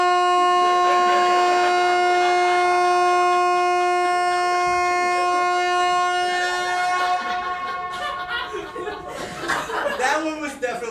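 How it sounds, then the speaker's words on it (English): An air horn sounds one long, steady, loud blast lasting several seconds, then cuts off as people start talking and laughing. "Hey, I just bought an air horn."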